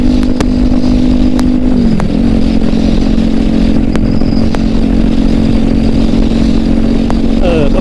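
A Kawasaki Ninja 400 motorcycle cruising at about 90 on a city road, its engine holding a loud, steady drone with a brief dip in pitch, under constant heavy wind roar.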